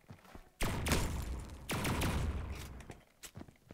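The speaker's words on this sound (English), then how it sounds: "AA-12 is loud." An AA-12 automatic shotgun fires in a video game, loud rapid bursts of booming shots, one burst early and another about a second later, then a few scattered single blasts trailing off.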